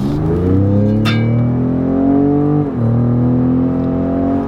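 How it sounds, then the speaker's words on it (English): A 2020 Ford Raptor pickup fitted with an X-pipe exhaust and resonator delete accelerates on an interstate, its engine note rising loud and smooth, dipping at a shift, then climbing again as heard from inside the cab. "I want to see if it sounds different from the interior from acceleration"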